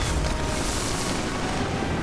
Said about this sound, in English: Nobody needs this many explosions.